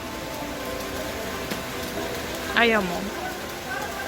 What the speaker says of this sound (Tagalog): Hintayin lang namin tumila yung ulan bago kami umakyat.